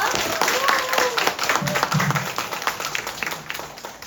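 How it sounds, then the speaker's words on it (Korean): Audience applause after a talk, heard as a burst of scattered clapping from a crowd under a person speaking, fading out toward the end. "진짜 살아있는 노하우로 멋진 강의해주신 우리 나혜주 대표님께 큰 박수 한번 부탁드리겠습니다"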